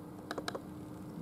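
A couple of quick, soft key presses on a computer keyboard, as in a Ctrl+A shortcut, sit close over a steady low background hum.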